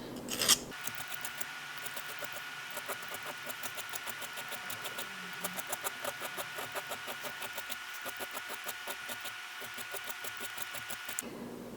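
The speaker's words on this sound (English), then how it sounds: "As you're filing this, because it is a rounded shape and you're using the flat side of the file, you want to roll the file" Flat file worked over a rounded metal bezel stone stacker, a steady series of rhythmic rasping strokes close up, continuing evenly with no talking.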